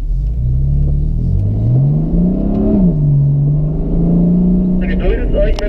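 BMW M4 engine revving on a skid plate during drift training at Burgkirchen: a close, continuous engine drone whose pitch climbs, dips and holds steady through repeated throttle pulls.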